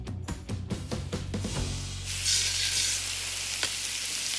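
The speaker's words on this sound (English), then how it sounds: "Start searing the chicken." Chicken breasts sear in olive oil in a pan, a loud, steady sizzling hiss swelling up after a few soft knocks and clatters of the pan, then holding close and constant to the end.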